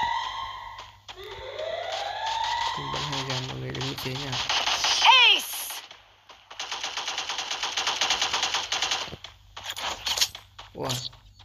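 Rapid bursts of automatic gunfire from a teammate in the battle-royale game Free Fire ring out amid game sounds and electronic tones, with a dense stretch of fast shots near the middle and short pops toward the end.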